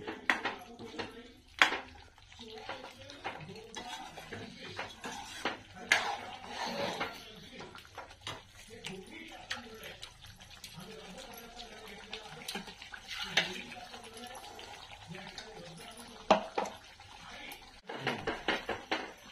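Vegetables are stirred into a spice masala in a pan while cooking chicken sabji at home. A spoon scrapes and clinks against the metal pan in irregular bursts, with soft sizzling between strokes. Occasional quiet speech is heard.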